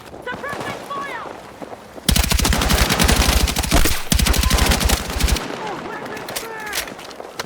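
Automatic weapon gunfire during a night raid in the Battlefield 6 campaign, sustained rapid bursts of machine-gun fire breaking out suddenly and lasting several seconds before cutting off, loud and close, with shouted voices and wind noise before and after.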